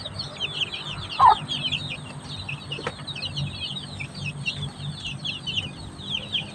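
Chickens cluck and chatter continuously at close range, with one louder squawk standing out among the steady flock noise.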